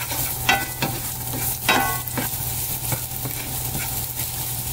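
Garlic and onions sautéing in a pan are stirred with a wooden spoon, giving a steady close sizzle with several distinct scraping strokes spaced a second or so apart, plus a low background hum; no one speaks.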